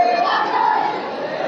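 Crowd at the Kailash temple fair in Agra, a dense, loud mass of overlapping voices and shouts filling the space without pause over a brief moment.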